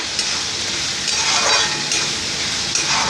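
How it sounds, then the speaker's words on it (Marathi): Chopped onion is sautéed in a pan for a vegetable dish, giving a steady, close hiss of sizzling oil with faint stirring scrapes throughout and no talking. "कांद्याचा कच्चापणा जाईपर्यंत त्याला आपण परतत राहायचं आहे।"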